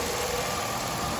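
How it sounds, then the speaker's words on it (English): A 1999 Chevy Cavalier Z24 with a 2.4 twin cam engine idles in a steady, even, continuous hum, close and moderately loud with no one talking. "There's the engine running like a Swiss timepiece."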